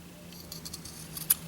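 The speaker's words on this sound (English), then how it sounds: "now I'm going to cut on that blue mark" Scissors cutting a fabric strip for pillow cording: a handful of faint, close snips in an uneven run, ending in one slightly sharper snip.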